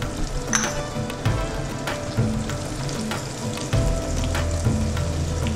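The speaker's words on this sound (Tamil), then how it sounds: "இதெல்லாம் நல்லா வதங்கினோடனே நம்ம தக்காளி பழத்தை போட்டுடலாம். பச்சை மிளகாவே சேர்த்து அதோட போட்டுடலாம்." Tomatoes and green chillies sautéing for mutton biryani, a loud continuous close sizzle with repeated stirring scrapes and utensil knocks against the pot.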